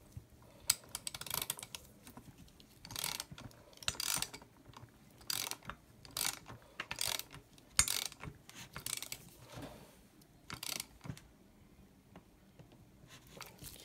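Clutch parts on a Chinese 5200 chainsaw are tightened by hand, giving quiet, close bursts of dry ratcheting clicks in short irregular runs with brief pauses between.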